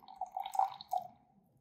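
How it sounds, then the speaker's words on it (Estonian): Hot water poured into a glass, a short wet splashing trickle that swells briefly and fades within about a second, close and fairly faint. "Tuleb võtta kuuma vett, valada seda klaasi."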